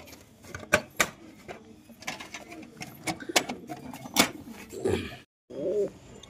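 Pigeons and their young in a loft: a couple of low, muffled coos near the end, following a series of sharp clicks and taps close by.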